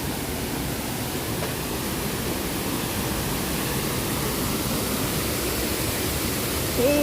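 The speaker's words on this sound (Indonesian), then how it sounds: "Bagus air terjunnya" Waterfall in Hong Kong Park, a constant broadband rush of falling water, close and steady throughout with no breaks.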